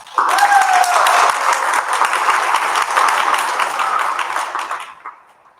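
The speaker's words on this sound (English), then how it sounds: "Please join me, sorry, in giving Ricky a well-deserved round of applause." An audience at an annual sobriety celebration claps in a warm, sustained round of applause that holds steady, then tapers off and fades near the end.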